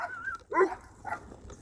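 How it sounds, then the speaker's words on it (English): Dogs give a few short barks and yips at moderate distance, faint and brief, with no talking over them. "There's some dogs."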